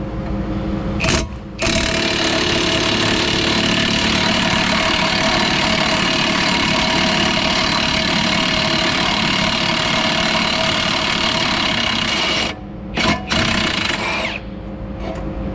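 A Milwaukee impact wrench works on a thread-locked front brake bolt of a Chrysler 300, giving a loud, continuous close-up hammering buzz for about eleven seconds, with short bursts before and after.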